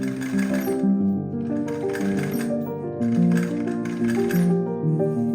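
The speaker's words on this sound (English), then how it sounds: "I am able to top stitch just under that cup seam from the front of the bra." A sewing machine hums and chatters close by in steady bursts, pausing briefly between runs, while top stitching under the cup seam of a lacy strapless bra.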